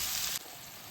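Brinjal (vankaya) pieces frying in a pan as turmeric is stirred in, giving a steady, close hiss of sizzling oil that drops slightly in loudness partway through, with no talk.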